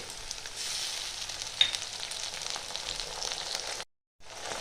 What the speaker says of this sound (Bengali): এবার দিয়ে দেবো আদা রসুন বাটা দু চামচ